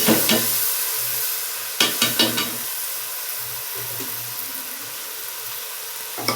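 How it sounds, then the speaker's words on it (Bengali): Rinsed rice is stirred in a hot pan, the sizzle of frying broken by sharp scrapes and knocks of a spatula, with a low steady hum underneath. "তো এখন হচ্ছে খুব পরিমাণে নাড়াচাড়া করতে হবে"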